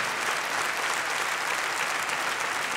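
A concert audience in Yerevan applauds, a dense, steady roar of many hands clapping at full strength throughout.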